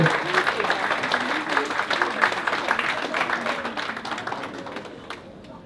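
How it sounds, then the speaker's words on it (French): An audience claps steadily through a lively wash of applause, with some voices and cheers mixed in, tapering off toward the end. "Applaudissez-le."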